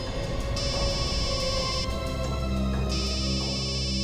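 A phone ringtone plays steadily, a repeating electronic melody with shifting tones, loud and close with no voices.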